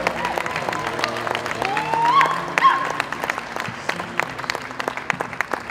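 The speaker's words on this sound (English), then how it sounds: "please, a special round of applause for Mr." A rally crowd applauds and cheers in a mix of scattered claps and voices, with a brief swell of shouts partway through, moderately loud and somewhat distant.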